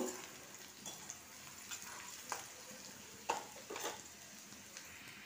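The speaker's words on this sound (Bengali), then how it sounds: "এবার এটাকে আমি খুব ভালোভাবে একটুখানি ভেজে নেব" Ginger, garlic, onion and chili frying in a pan give a soft, steady sizzle, with occasional sharp scrapes and clicks of stirring against the pan.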